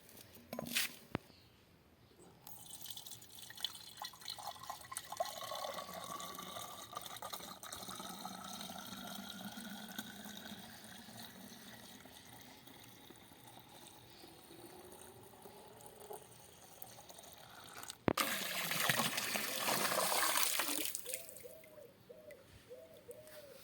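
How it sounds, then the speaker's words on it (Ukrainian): Liquid pours from a bottle into a container, with a faint gurgling fill that runs for several seconds and rises in pitch. A brief louder gush comes near the end, and the whole thing stays fairly quiet and close. "вливаємо одну пляшечку і ще 50 грам"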